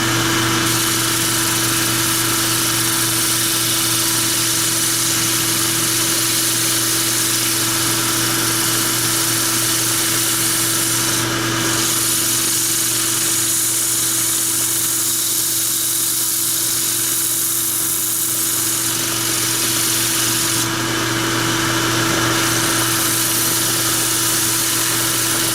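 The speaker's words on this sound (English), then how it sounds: "So, I'm gonna sand that up and lighten it up on the edge." A power sander runs steadily along the edge of a piece of very soft wood, a continuous whirring drone with a mechanical hum that holds up close and loud throughout, with no talking.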